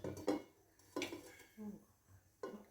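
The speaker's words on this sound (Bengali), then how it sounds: "সেই জন্য আমি এই থালাটা দিয়ে চাপা দিয়ে দিচ্ছি" A plate set down over a cake pan on the stove, a few distinct metallic clanks and knocks spaced across a couple of seconds, close but fairly quiet, with a soft voice nearby.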